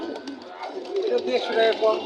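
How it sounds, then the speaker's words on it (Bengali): Pigeons coo at a Bangladeshi pigeon market, soft repeated calls close by and running throughout under steady market chatter and people talking. "খুব সুন্দর একটা কবুতর, বাঘা মুজালা"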